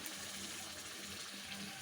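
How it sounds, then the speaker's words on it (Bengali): Meat broth pours into a cooking pot of simmering beef, a faint, steady liquid rush of running water with no speech. "এই যে এখন আমি গোস্তের ঝোল দিয়ে দেবো"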